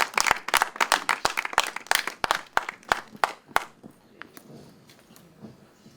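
Audience applause at a European film screening in Aveiro, a burst of sharp claps that thins out and fades to scattered, quieter claps toward the end.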